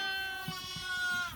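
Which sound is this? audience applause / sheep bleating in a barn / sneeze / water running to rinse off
sheep bleating in a barn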